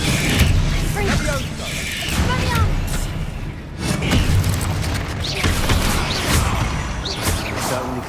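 Confringo blasts in the Hogwarts Legacy video game come amid a dense, loud battle din: repeated booms, crashes and creaking, mechanical rattles running continuously, with voices shouting over them.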